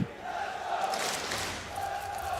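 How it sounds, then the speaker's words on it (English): Crowd of Virtus.pro supporters cheering at a DreamHack Masters Las Vegas 2017 Counter-Strike match against Astralis, a sustained distant roar of voices with whistle-like tones filling the arena under a steady hum. "there's the VP cheering section waking up."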